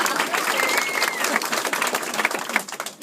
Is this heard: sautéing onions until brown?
no